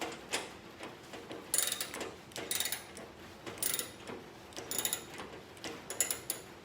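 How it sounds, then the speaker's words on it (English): A ratchet tightening a fastener while a wrench taped in place holds the other side, giving bursts of quick clicking pawl ticks in an irregular rhythm, close and fairly crisp with no talking. "with the ratchet, have the wrench hold it in place."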